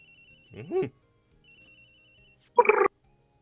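A phone in the Ace Attorney video game rings with electronic chirping tones, followed after a pause by a short, louder burst of ringing, over near silence.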